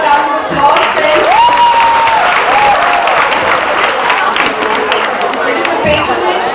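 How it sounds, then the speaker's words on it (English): Audience at a Mumbai University event claps steadily, dense crowd applause with chatter and a few whistles or cheers mixed in. "Please give them a round of applause, friends."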